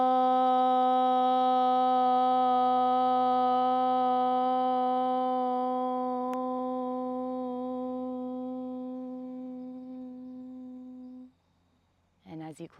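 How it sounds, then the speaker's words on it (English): Group chanting a long, steady Om during a yoga flow practice, a rich sustained drone held loud for about eleven seconds before fading out, followed by a brief soft breath. "let's fully open the practice with the sound of an Om"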